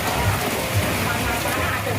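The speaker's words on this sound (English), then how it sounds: "Pours down rain on all of us and making us all soaked." Heavy rain pours down steadily during a storm on Cheung Chau island, a dense, continuous wash of noise with what may be faint voices underneath.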